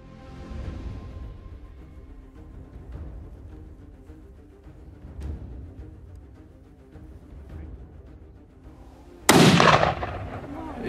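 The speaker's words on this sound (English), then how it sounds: "Excellent shot." A single loud rifle shot cracks out near the end of a lion, sable and buffalo hunt, following several seconds of quiet outdoor bush ambience with faint rustles and distant sounds, leaving a lingering echoing tail.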